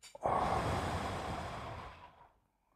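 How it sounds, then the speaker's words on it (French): One deliberate, slow breath taken during a guided breathing exercise, a soft breathy exhale that starts abruptly, holds steady and then fades gently into silence, close and quiet. "Une respiration."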